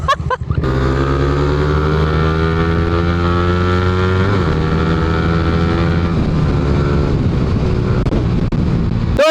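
A Raider or Winner X motorcycle doing a full-throttle start, engine revving up loud and close with rising tone through the gears, then easing off toward the end.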